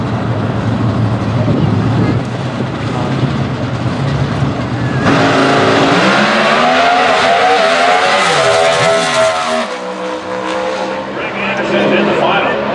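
NHRA drag racing cars at Epping, New Hampshire, roar loudly as they launch down the track, with a rising engine howl and tire noise, while a commentator talks over them throughout.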